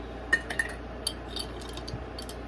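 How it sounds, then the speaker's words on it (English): Light clinks and taps of a small item, such as a cinnamon stick, set into a mortar and pestle, a few brief quiet knocks close by with no speech. "I am going to put one over here in this other mortar pestle"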